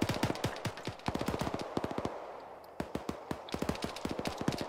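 Machine gun fire in Arma 3: long, rapid bursts of sharp automatic shots, loud and close, with a short lull midway before the firing resumes, heard alone with no talk.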